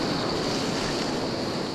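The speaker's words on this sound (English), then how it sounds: "Wind gusts whip up through the undergrowth, fanning thick plumes of blinding smoke" Wind gusting through burning bush undergrowth in the Blue Mountains during a bushfire, a loud, steady broadband roar of rushing air buffeting close by.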